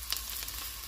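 Chilli and cumin powder frying in hot oil for a chicken curry with whole spices, a faint continuous sizzle with one brief crackle early on, no voices.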